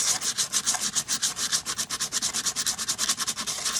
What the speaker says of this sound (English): I'm going to sand off some of the paint.